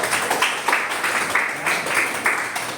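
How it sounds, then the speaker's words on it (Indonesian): A class of students in a micro-teaching lesson claps together for a classmate, sharp bursts of group clapping repeating in a steady, patterned rhythm, fairly close and moderately loud with no talking over it. "Oke, tepuk tangan semua untuk Abel."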